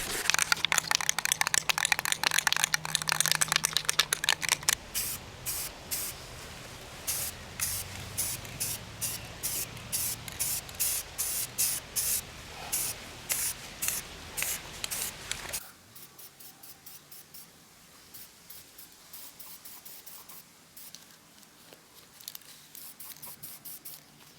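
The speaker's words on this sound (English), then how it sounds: "I need to rough up the finish with sandpaper so the paint will stick to the material" Sandpaper roughs up the finish of PVC piping for a Klipsch subwoofer upgrade, making close rhythmic scraping strokes, rapid at first, then in slower, quieter bursts.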